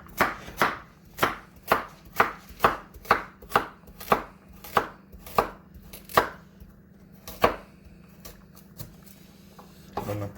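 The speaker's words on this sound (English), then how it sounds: "cut carrot into it." A knife chopping carrots on a board for a Jamaican stew peas pot, about a dozen crisp, evenly spaced cuts that slow and thin out toward the end, close up with no talk.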